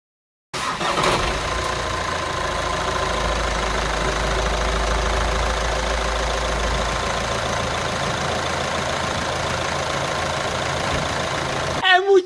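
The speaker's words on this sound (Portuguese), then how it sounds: "Olha a melodia do motor Amarok" A Volkswagen Amarok pickup's engine idles steadily at close range with a deep, continuous rumble that holds even throughout, revving up briefly near the end.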